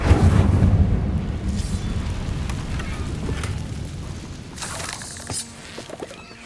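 A fiery Incendio spell blast in the video game Hogwarts Legacy, a loud roaring burst at the start that settles into a sustained crackling rumble, with further bright crackles near the end.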